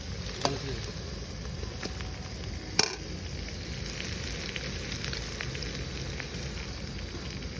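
Brinjal and onion fry in a pan during village cooking, giving a steady, close sizzle with a few sharp crackles and pops, while soft voices may be faintly present.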